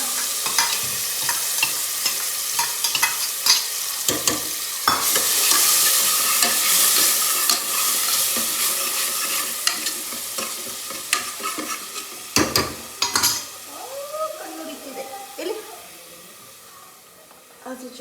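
Ginger-garlic paste hitting hot oil in a pan for naati-style mutton curry, a loud close sizzle and hiss with spatula stirring clatter that fades toward the end, while a voice talks intermittently.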